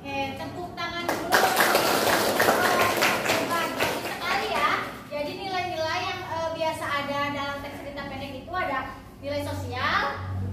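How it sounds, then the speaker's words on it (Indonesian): Children in a classroom clap together in a quick burst of sharp, rapid claps lasting a few seconds, followed by a lively mix of young voices chattering and calling out. "Oke, tepuk tangan dulu."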